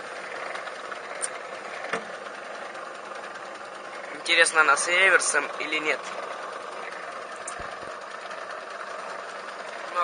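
An old 1992 Feya 2 washing machine motor keeps running with a low, steady whirring hum, while someone speaks briefly in the middle over the machine noise.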